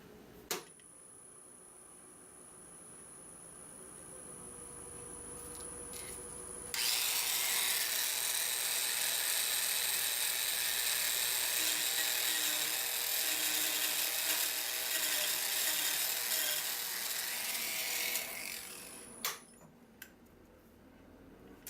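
A Merlin 2 rotary carving tool cuts into wood in one steady, fairly loud grinding stretch of about eleven seconds. Quieter tool noise comes before and after, and no one speaks.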